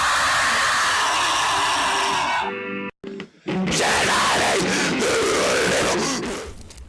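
Gore grind extreme metal band recording: a dense, loud wall of distorted noise with harsh growling vocal texture, briefly cutting out into near silence around the middle before the heavy blast resumes and slowly fades at the end.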